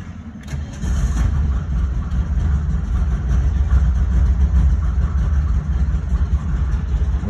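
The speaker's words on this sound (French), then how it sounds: "Donc je démarre." A 1970 VW T2a Westfalia engine starting from cold, a short cranking burst that catches and settles into a steady, throbbing low idle close by.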